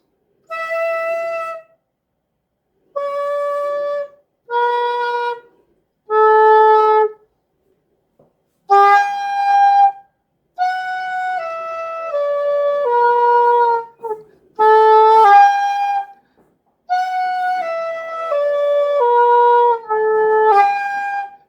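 A Korean danso bamboo flute plays clear, breathy, sustained notes, alone and close, in a series of separate held tones with short gaps between them.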